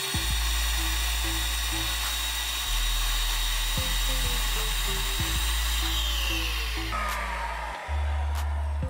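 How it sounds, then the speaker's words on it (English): A Metala Muckbuster pond vacuum motor runs loudly and steadily with a high whine, its pitch shifting slightly near the end as its tank fills and it switches off, while background music plays. "he's going to show us how to use a Metala Muckbuster vacuum cleaner"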